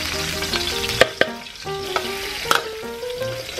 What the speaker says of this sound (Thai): เราใส่พริกแกงไปทอดผัดพริกแกงนะครับกับน้ำมัน